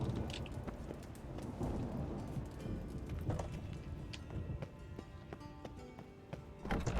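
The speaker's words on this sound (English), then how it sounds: "A storm, damn it." Stormy weather in the video game Witcher 3, with steady rain and low rumbling thunder rolling throughout, a broad continuous wash of noise that swells and settles.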